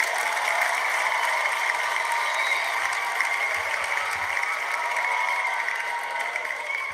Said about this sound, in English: Here's your cheer.